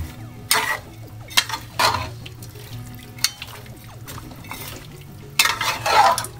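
Sautéed chayote with tomato is stirred in a pan: intermittent scraping bursts of the spoon over a low sizzle, with a steady low hum underneath.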